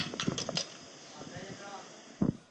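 Several hollow, tinny hits on a homemade drum kit made from tin cans glued to a box, in a quick irregular cluster, a pause with faint rustling, then one more sharp strike near the end.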